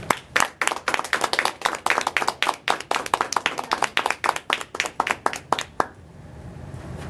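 An audience claps to welcome Joy Faust at a Toastmasters club meeting: dense, steady applause with sharp hand claps that stops abruptly near the end, leaving quiet room tone.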